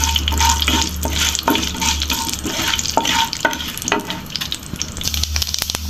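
Hot oil sizzles steadily as mustard seeds and fenugreek fry for fish curry, a spoon scraping and stirring the pan at regular intervals, close up, with no talking.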